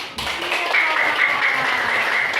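Students in a class clap their hands together, a brief, close, busy spatter of applause starting abruptly and holding steady for a couple of seconds.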